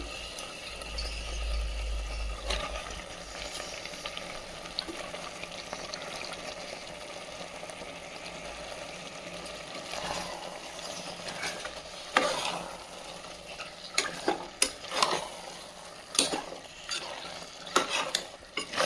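Cleaned chicken, half a kilo, goes into a pot of masala for chicken biryani, giving a low steady sizzle with stirring, spoon scrapes and metal clinks growing busier toward the end, no talking.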